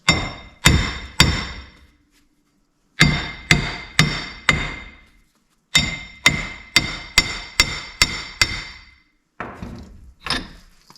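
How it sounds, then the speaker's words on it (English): Loud metallic hammer blows on a rusted front wheel hub of a 2003 GMC Sierra 4WD ring out in quick bursts of three to six strikes, separated by short pauses, each hit sharp with a brief ringing decay. "this should only take a couple more swings of the hammer"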